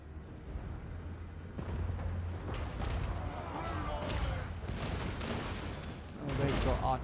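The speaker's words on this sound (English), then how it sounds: "They've got artillery, which is great fun." Artillery fires in a Total War: Warhammer Mortal Empires battle, giving repeated booming volleys and scattered gunfire that rumble through the distant noise of the fight, with a voice talking over it.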